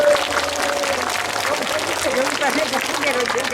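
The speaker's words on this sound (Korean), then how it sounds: "박수 한번 보내주시죠." A concert crowd at an outdoor cultural festival in Imsil applauds steadily in a wash of distant clapping, with a low hum and voices mixed in.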